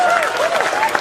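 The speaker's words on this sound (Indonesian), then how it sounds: "Tepuk tangan." Brief burst of crowd applause at a seminar in Indonesia, dense and steady throughout, with a voice briefly audible over it.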